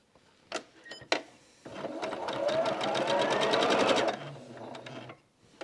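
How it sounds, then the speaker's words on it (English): A sewing machine stitches quilt fabric, sewing the other side of a gingerbread-house roof block. A couple of short clicks lead into a steady, rapid mechanical whir of stitching that runs close and alone for a few seconds before slowing to a stop. "now I'm going to match these corners up and sew on the other side of my roof"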